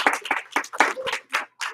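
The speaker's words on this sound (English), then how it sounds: "Everybody give him 1 clap, 2 claps, and You rock." A group claps for a student at a martial arts class, about seven sharp, separate claps in an uneven rhythm, close and fairly loud with no voices.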